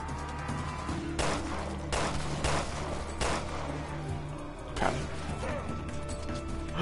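Sniper rifle shots in Resident Evil Revelations 2 gameplay, several sharp cracks spaced a second or so apart over a steady low game ambience, with mechanical clatter between shots.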